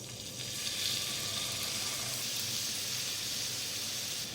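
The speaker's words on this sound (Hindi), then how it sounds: "मीडियम आंच में मैं इसको फ्राई करूंगी पलट पलट के" Chicken tikka fries in oil and melted butter on a tawa over medium heat, giving a steady, loud, close sizzle that holds evenly throughout without talk.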